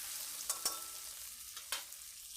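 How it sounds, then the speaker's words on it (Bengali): Onions cooking with salt in a hot wok give a soft, steady sizzle with a few sharp stirring scrapes, fairly quiet and with no voices. "কড়াইয়ের মধ্যে কষে নিতে হবে পেঁয়াজগুলো।"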